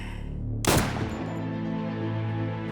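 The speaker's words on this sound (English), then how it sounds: "And I hear a gunshot." A single gunshot cracks out sharply and loudly, then decays into a ringing tail over a steady low background hum.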